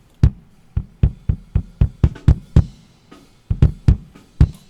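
Kick drum in a neo-grunge mix with inside and outside mics blended, playing a busy irregular pattern of sharp, punchy beats with clicky attacks and a deep low thump, heard alone.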